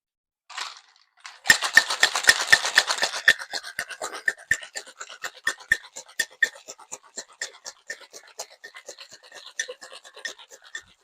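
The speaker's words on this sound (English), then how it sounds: "we are going to shake for about 15 to 20 seconds or until it is ice cold" Cocktail shaker tin packed with ice and margarita ingredients shaken hard, a fast rattling burst that settles into a steady rhythmic clatter of ice against metal for several seconds, close and alone.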